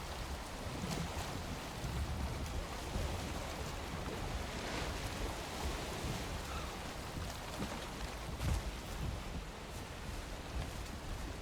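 Steady wash of ocean waves and wind around a sailing boat in the game Valheim, a broad continuous rushing hiss with no voices.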